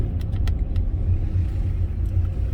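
A car approaching along a road at a driving test area in Kadıköy, heard as a steady, fairly loud low engine and tire rumble with a few brief higher clicks, no talk over it.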